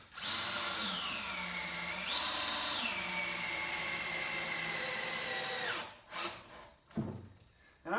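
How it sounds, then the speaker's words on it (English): Power drill driving long screws into a saw table, one long steady whirring run whose pitch dips as the screw bites, then short bursts, close and clear with no talking. "And I'm putting really long screws in because these things got to hold up all the weight."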